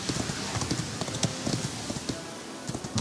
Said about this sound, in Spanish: ¿Cómo corre este caballo?